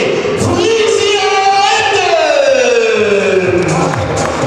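Loud indoor hall crowd at a youth indoor soccer cup final cheers and applauds for FC Frisia Emden from East Frisia, a dense continuous roar with a voice announcing over it.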